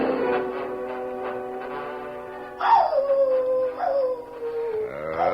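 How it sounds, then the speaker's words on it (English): A lone dog howls from inside a cave, long wavering cries that swell, fall and rise again across several seconds, clear and moderately loud with nothing else heard. "We didn't get his dog, though. Listen."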